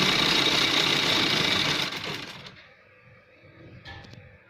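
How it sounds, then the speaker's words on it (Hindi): Sewing machine stitching a gents' shirt, a dense steady motor whir running loud for about two seconds, then slowing and fading out, with a faint short burst near the end. "इस तरीके से हम इसमें सिलाई लगा दिए"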